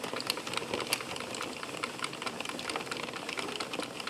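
An Addi knitting machine cranks out sock rounds, giving a steady, close run of rapid clicking and clattering from its needles, with a mechanical whir running evenly throughout and no voices.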